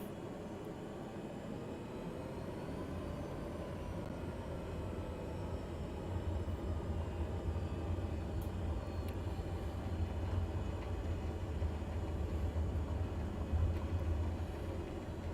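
Steady engine drone of a skydive plane during its takeoff roll on a runway at Goodwood, a continuous loud hum with a deep low rumble building slightly toward the end.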